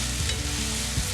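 Sautéed ackee is stirred in a hot pan, giving a dense, even sizzle close by, with two soft stirring scrapes in a brief stretch and no voices.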